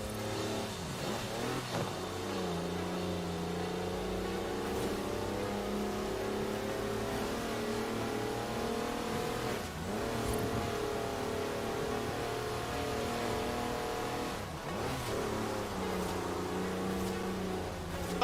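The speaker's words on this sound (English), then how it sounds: "That's a four-wheel drive car on mud tyres completely sideways." Engine roar from a four-wheel drive car on mud tyres sliding sideways, a steady mid-pitched drone that rises and dips several times as the throttle changes, loud and continuous with no voices.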